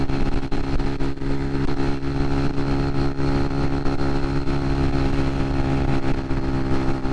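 A 125cc starter motorcycle at top speed on a downhill stretch, its engine holding a loud, steady drone with strong harmonic tones and no let-up, heard alone without talk.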